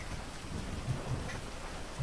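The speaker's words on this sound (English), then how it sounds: "It's raining." Steady rain pours outdoors as a broad, even hiss with a few soft low thumps, with no voices over it.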